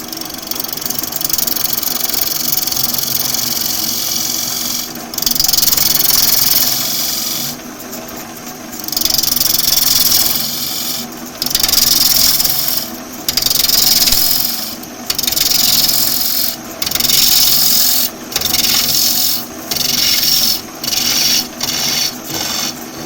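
A wood lathe spins a wood blank at around 400 RPM and above, its motor whirring steadily while a tool repeatedly rasps against the turning wood in short bursts.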